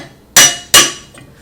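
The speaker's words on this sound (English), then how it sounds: "I can press the briquette" A hand-operated charcoal briquette press gives two sharp, loud metallic strikes about half a second apart, each ringing briefly, followed by a faint softer knock.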